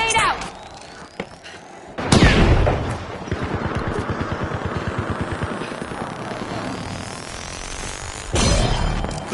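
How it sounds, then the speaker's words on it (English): A frag grenade in The Finals lands with a sharp blast, followed by a rapid rattling burst of gunfire and a second heavy impact near the end, loud and close, with a voice speaking briefly. "Frag grenade out."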